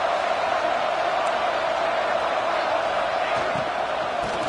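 A crowd at a Penn State vs. Oregon college football game keeps up a loud, unbroken roar of cheering and whooping, a dense stadium wall of noise with a commentator's voice over it.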